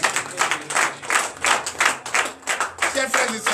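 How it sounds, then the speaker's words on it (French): A church congregation claps in a loud, steady rhythm during morning prayer, with voices calling out and acclaiming under the clapping. "Donnez de vive acclamation au Seigneur Jésus."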